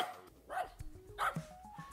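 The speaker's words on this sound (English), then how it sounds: "It's a dog." A dog barks two or three times, fairly quiet and close, as a sound-quiz clip, with a high whining tone between the barks.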